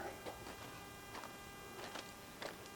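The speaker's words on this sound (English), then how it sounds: "it sounds like an air conditioning unit." A low, steady mechanical hum, like an air conditioning unit, drones on from a parked passenger rail car with soft periodic ticks over it, fairly faint and continuous, with no voices.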